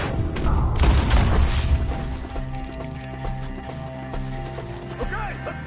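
Gunfire in Red Dead Redemption 2 during a woodland ambush with enemies up in the trees: a burst of loud, booming shots up front, then a quieter stretch with horse hooves and scattered game voices shouting.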